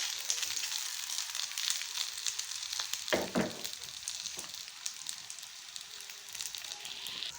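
Seekh kebabs fry in oil in a pan, giving a steady, close sizzle throughout, with a couple of brief louder crackles and a clatter as the kebabs are turned.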